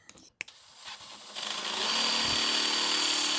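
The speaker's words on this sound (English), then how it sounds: "you just got to drill them out to size" After a couple of brief knocks, a power drill spins up and whines steadily at high speed, loud and close, drilling out golf cart solenoid connections, running to the end.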